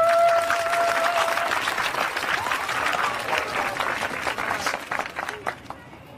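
Audience applause for a couple at a gathering of guests, a dense sustained clapping that fills the space and then thins out toward the end, with voices faintly mixed in.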